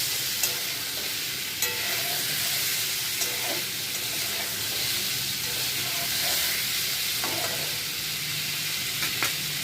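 Spiced potatoes with asafoetida being stirred in a frying pan, a steady hiss and sizzle of frying with occasional soft scrapes and clinks of the spoon against the pan.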